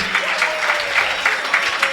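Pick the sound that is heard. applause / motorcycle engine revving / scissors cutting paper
applause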